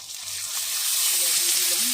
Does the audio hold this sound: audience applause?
no